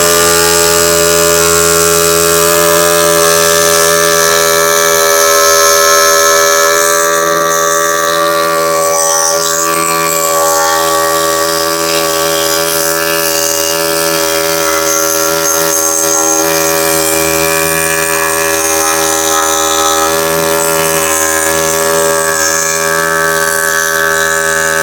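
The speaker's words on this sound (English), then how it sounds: "Bought that air scraper a few years ago doing a gasket on a 4-liter inline" Pneumatic air scraper cleaning a flange on a 2015 Grand Caravan, a loud, continuous high-pitched buzzing whine with a rattling edge that runs steadily through the whole stretch.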